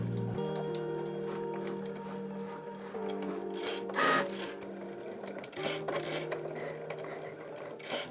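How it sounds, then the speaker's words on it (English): A Cricut cutting machine slices cardstock on an intricate-cuts setting at heavy pressure with two passes, giving a steady motorized whir with faint ticking and rasping of the blade, plus a couple of louder scraping bursts as the carriage moves. "We can now let the Cricut work."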